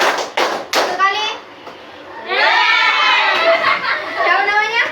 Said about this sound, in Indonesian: Tepuk tiga kali